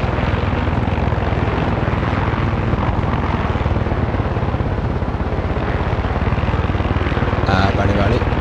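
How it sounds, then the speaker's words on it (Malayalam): A helicopter flies in the video game Far Cry 6, its loud, steady rotor chop and engine drone filling the whole stretch without letup. "പക്ഷേ ഇവിടെ ഒരു ഹെലികോപ്റ്റർ അവിടെ പോകുന്നു"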